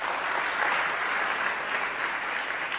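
An audience at a Jain religious discourse by Praman Sagar Ji Maharaj applauds in a steady, even wash of clapping, with no voices over it.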